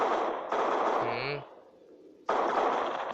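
Video game gunfire: dense, loud bursts of rapid automatic shots that break off briefly, leaving a thin tonal sound and a quiet gap, then resume at full intensity.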